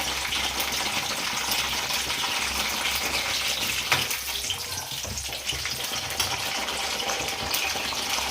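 Brinjals fry in a large pan for a Guntur-style brinjal curry, giving a steady, dense sizzle and crackle that stays close and loud throughout without a break.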